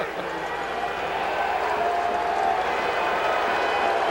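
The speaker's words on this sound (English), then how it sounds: "the crowd making some noise" Crowd at a Canadian football stadium during a CFL game between Calgary and Saskatchewan, a steady, dense roar of cheering and noise filling the whole span at moderate loudness without clear breaks.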